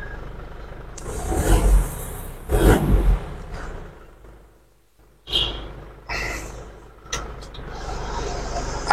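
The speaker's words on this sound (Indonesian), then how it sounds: "mobil sudah menyala." An Isuzu Panther engine runs after its injection pump has been recalibrated, a steady low idle with a couple of louder revving swells early on, then settling with scattered clicks and small knocks nearby.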